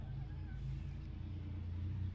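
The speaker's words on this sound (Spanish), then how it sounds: "¡Uy, putos carros de mierda!" Cars pass on the street outside, a heavy low rumble of engines and tires that holds steady throughout, with a voice briefly audible over the traffic.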